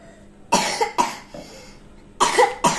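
Several close, harsh coughs come in bursts: a pair, a softer one, then two more near the end, with quiet gaps between.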